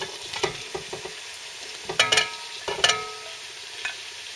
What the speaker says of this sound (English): I'm going to fry them until they are tender.